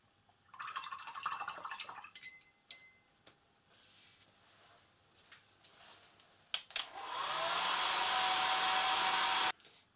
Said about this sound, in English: And then I'll dry this with a hairdryer.